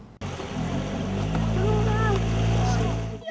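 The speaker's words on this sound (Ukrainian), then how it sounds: "А малечу катали на моторному човні." A motorboat engine drones steadily up close while giving children rides, a loud continuous hum with water noise around it and a voice heard faintly over it.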